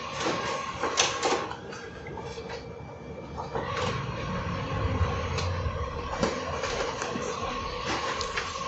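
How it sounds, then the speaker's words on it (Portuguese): A Ricoh Aficio SP C830DN laser printer whirs and rumbles steadily as it calibrates before printing, with mechanical clicks and clunks scattered through the continuous machine noise, nearby and fairly loud. "Isso que ela está fazendo antes de imprimir é uma calibração, tá? É normal o equipamento fazer isso."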